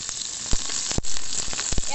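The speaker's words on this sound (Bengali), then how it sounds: "তেল দিয়ে নিই, পেঁয়াজ মরিচ আর কিছু রসুন নিচ্ছি।" Oil, onion, chili and garlic sizzling in a pan on a clay stove, a loud, close hiss broken by a few sharp crackles and spatters.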